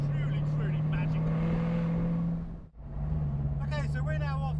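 A Jaguar F-Type fitted with a tuned exhaust set to its loud setting drives along autumn country lanes, giving a steady, loud engine drone that briefly drops away and then returns, with a voice talking over it.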